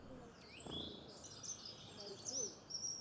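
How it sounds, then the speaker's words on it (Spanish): Birds calling outdoors, a few faint high chirps and whistled notes scattered over a quiet background, with soft sounds of movement nearby. "¿Mira los pájaros?"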